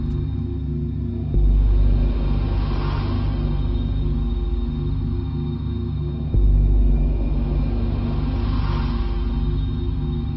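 Synthetic sound design for an electric concept car: a steady low throbbing hum that steps up in level twice, with a faint tonal sweep over it and no voices.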